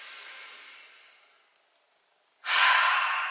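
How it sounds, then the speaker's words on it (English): A person draws a slow deep breath in, pauses briefly in near silence, then lets it out in a loud, close, breathy exhale, with no words spoken. "Can we just all take a deep breath in right now?"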